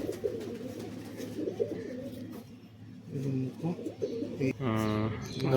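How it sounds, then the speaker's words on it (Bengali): Giribaz, Madrasi and Malwai pigeons coo in low, throaty rolls close by, with someone talking over and between the calls. "full finish Payra"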